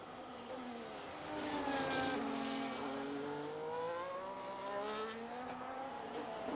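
Race cars in a racing video game screaming through a qualifying lap at Australia, engine notes rising and falling steadily with shifting pitch as cars pass, continuous and fairly loud with no talking.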